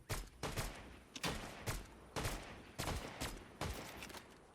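Gunfire sounds in a Fortnite match, with sharp shots fired in quick bursts about every half second at a fairly faint level.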